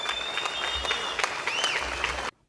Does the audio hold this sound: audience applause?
yes